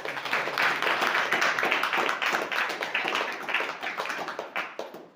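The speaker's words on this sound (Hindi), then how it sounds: "बस हमें जोरदार तालियां।" Enthusiastic clapping from a church congregation during a Hindi sermon on Psalm 15, dense and steady for about five seconds before thinning out toward the end, with no voices over it.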